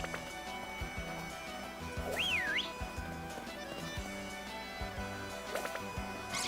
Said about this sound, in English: So if I were to whistle here,